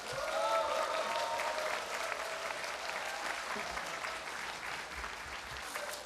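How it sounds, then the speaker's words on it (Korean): A large audience at a Jogye Order Buddhist seminar opening ceremony claps steadily for the order's head monk, a dense, sustained round of applause with a faint tone over it, gradually easing. "진우 스님을 큰 박수로 함성으로 모시겠습니다."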